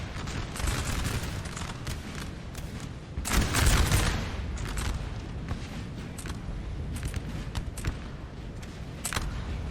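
Musket volleys crackle in a Napoleon Total War 4v4 battle, dense overlapping rifle fire rolling continuously with a heavier burst of booming shots near the middle, loud and steady throughout.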